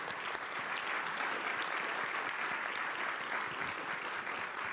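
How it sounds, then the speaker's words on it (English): Audience at a youth forum panel session applauding the panelists, a steady, even wash of many hands clapping, moderately distant and without pauses. "Please join me in giving a round of applause to our wonderful panelists"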